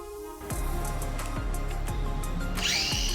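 A cutoff wheel cuts metal while clearancing a car's rear bumper, a loud continuous whine that grinds with several short changes in pitch as the wheel bites and lets off.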